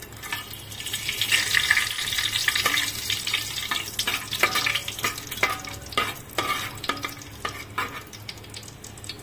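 Whole cinnamon sticks, cloves and bay leaves sizzle and crackle in hot ghee in a home kitchen pan, a steady close frying hiss with scattered sharp pops and occasional stirring scrapes, no voices.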